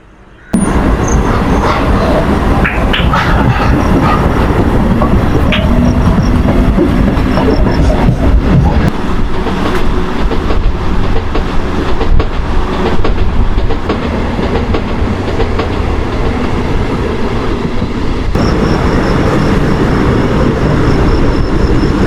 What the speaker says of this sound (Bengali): আমাদের ট্রেন হর্ন দিয়ে ছেড়েও দিল